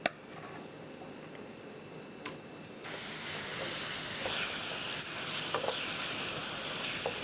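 Balinese spice paste dropped into hot vegetable oil over medium-low heat, bursting into a loud, steady sizzle and hiss that swells and continues with occasional crackles, with no voices.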